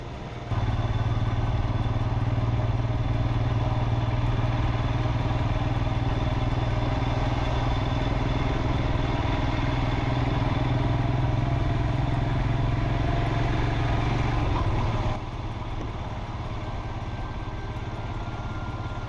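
A motorcycle engine hums steadily and close for a long stretch on a ride to Kakkayam dam in Kozhikode, Kerala, a constant droning rumble that suddenly drops away near the end.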